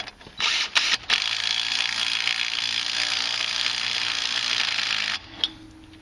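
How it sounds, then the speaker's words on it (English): A socket ratchet tightens wheel spacer nuts on a 2004 Polaris Sportsman 500 ATV, giving a sustained close-up rapid clicking run with a few short bursts before and after. "I'll have to use a socket to finish that one off."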